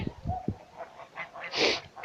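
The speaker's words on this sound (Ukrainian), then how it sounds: "Гуси вже формуються в більші групи" Geese near frozen ponds in winter give several honks, a few low clipped calls followed by a louder, higher honk, fairly faint and at a distance.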